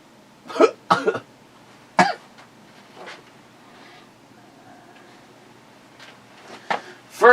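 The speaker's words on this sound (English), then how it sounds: "cough?" Several sharp coughs and throat-clearing bursts in a quiet room: a pair close together, another a second later, then fainter ones and a final burst at the end.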